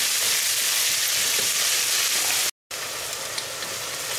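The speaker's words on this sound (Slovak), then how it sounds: "Takže cibulka sa ešte smaží." Onion sizzling and frying in a pot, a steady loud hiss that cuts out briefly near the middle, then resumes unchanged.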